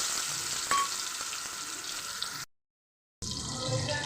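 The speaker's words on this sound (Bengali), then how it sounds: "মশলা করার জন্য আমি তেজপাতা, গোটা গরম মশলা আর একটুখানি 5 ফোড়ন দিয়ে দেব।" Bay leaf, whole garam masala and panch phoron frying in oil for a fish curry: a bright, close, steady sizzle that cuts out briefly before resuming.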